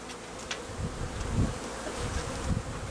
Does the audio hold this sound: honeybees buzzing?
yes